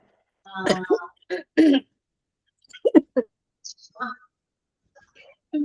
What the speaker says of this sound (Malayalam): ഞാനൊരു ഇച്ചിരി വെള്ളം കുടിച്ചതാ, ഭയങ്കര ചുമയായി പോയി